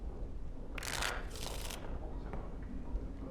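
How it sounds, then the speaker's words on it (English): A deck of cards is shuffled in the video game Dragon Age: Origins, two quick crisp riffling bursts in close succession against a quiet backdrop. "Before we start, the cards must be shuffled."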